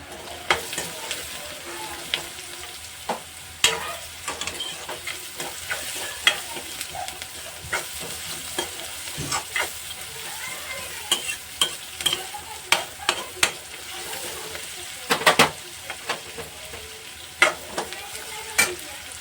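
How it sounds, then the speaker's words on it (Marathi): Carrots stir-fried in hot oil in a pan make a steady, close sizzle, broken by frequent sharp scrapes and clicks of a spatula turning them, with no talking. "या ठिकाणी आपण टाकणार आहोत गाजर तर आपण असं चांगलं तेलामधून परतून घेणार आहोत"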